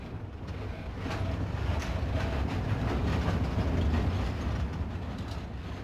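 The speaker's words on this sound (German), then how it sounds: "Als der Zug abfährt, sieht Albert nicht aus dem Fenster." A train departing, a steady low rumble of rolling rail cars that swells in the middle and eases off, with no voices over it.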